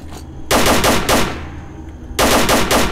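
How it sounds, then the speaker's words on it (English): Two loud bursts of rapid automatic AK rifle fire in S.T.A.L.K.E.R.: Call of Pripyat with the Arsenal Overhaul mod, each lasting over a second, separated by a brief lull with a faint ringing tail. "you can't have this game without showing what an AK sounds like"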